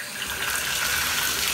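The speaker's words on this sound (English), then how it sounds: "I'm going to turn on the hot water" Hot water running from a Moen shower valve, a steady broadband rush of flowing water that holds constant and fairly loud throughout, with no voices.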